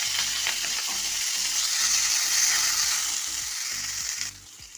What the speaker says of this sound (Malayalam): ഒരു ഏഴെട്ട് ചെറിയ ഉള്ളി അരിഞ്ഞു വെച്ചത് ഒരു പച്ചമുളകും കൂടെ ഇട്ട് നമുക്ക് വഴറ്റി എടുക്കാം